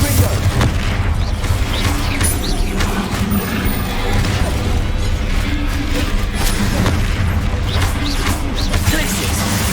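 Rapid spell-casting combat in the video game Hogwarts Legacy on PS5, with dense, continuous booms, crashes and impacts layered over one another throughout; a voice repeatedly calls out spell names over the din.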